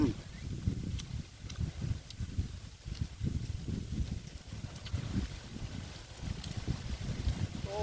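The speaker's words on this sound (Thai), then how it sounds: "ลมหนาว" Cold wind blows and buffets the microphone outdoors in a rural setting, a steady rough rumble with gusty swells, with faint speech-like sounds mixed in.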